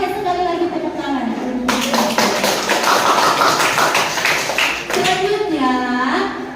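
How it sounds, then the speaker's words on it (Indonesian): Classroom applause from a group of students bursts in for about three seconds, a dense, steady clatter of clapping that starts abruptly and cuts off, with a voice talking before and after it. "sekali lagi tepuk tangan"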